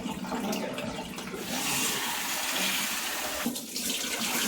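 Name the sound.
washing lentils in water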